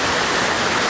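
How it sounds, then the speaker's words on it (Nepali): Heavy rain falls in a dense, continuous hiss, steady and fairly loud throughout with no voices. "पानी अलिकति पनि कम भइरहेको छैन"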